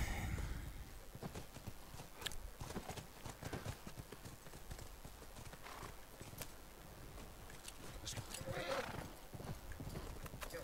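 Horses in the video game The Last of Us, rapid rhythmic hoof clip-clops on the ground with a brief neigh near the end, fairly faint and blended with game ambience.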